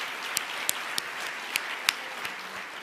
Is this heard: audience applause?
yes